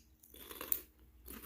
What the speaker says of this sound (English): You can hear them popping and sizzling.